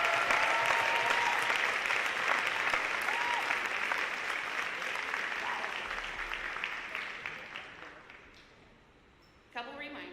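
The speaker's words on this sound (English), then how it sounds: "Could I have a huge round of applause?" Audience applause at a high school senior honor night, a broad sustained roar of clapping that gradually fades toward the end, followed by a speaking voice.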